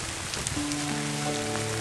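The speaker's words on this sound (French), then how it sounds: "Ce que vous entendez, c'est la pluie qui tombe à très grosses gouttes." Heavy rain with very large drops falls at the edge of a forest, a dense steady patter with faint tonal hum underneath, no talking.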